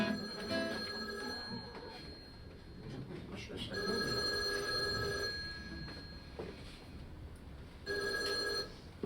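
An old-style telephone rings in bursts of bright, stacked electronic tones, with a longer ring in the middle and a shorter one near the end separated by quieter gaps, heard fairly close with faint background noise.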